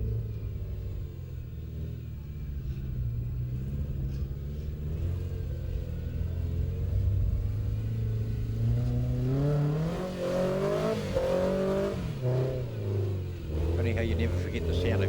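A 4x4 trial truck engine rumbles and revs through a Whanganui trials course, pitch climbing as it accelerates, moderately distant with a commentator talking throughout.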